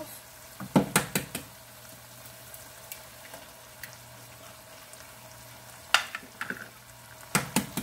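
Eggs go into a pan to fry with izote flower, a quiet steady sizzle broken by sharp clinks and scrapes of a utensil stirring against the pan in short clusters.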